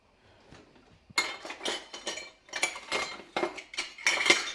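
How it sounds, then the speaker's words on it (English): Citrus chicken stir fry is scooped into meal prep containers, spoon scraping and clinking against cookware in quick irregular bursts, close and fairly loud, with no talk. "You can probably pack up the stir fry at this point."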